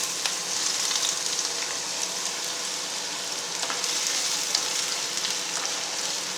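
Onions sizzle in hot oil in a pan for spicy chicken liver masala fry, a continuous dense crackling hiss, close and steady throughout.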